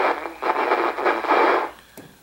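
A shortwave single-sideband transmission received in FM mode comes through as a harsh, hissing burst of distorted noise that pulses irregularly for under two seconds before cutting off.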